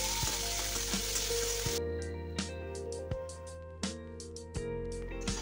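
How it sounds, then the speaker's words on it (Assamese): Soybean chunks and tomato sizzling in hot oil in a pan. A dense hiss fades into a softer simmer with a low hum, broken by several sharp clinks as the mix is stirred. "এইখিনি আকৌ এবাৰ ভাজি ল'ম"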